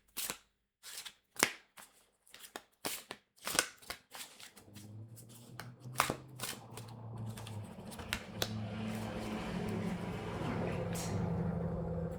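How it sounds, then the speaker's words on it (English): A deck of tarot cards is handled: several distinct sharp riffles and snaps come first, then a longer, softer run of shuffling over faint background noise. "One last shuffle where needed for this upcoming week's reading."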